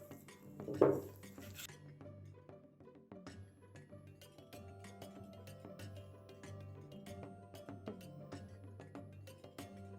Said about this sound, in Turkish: 1 adet yumurta sarımızı ilave ediyoruz. Terbiyemizi karıştırmaya başlıyoruz.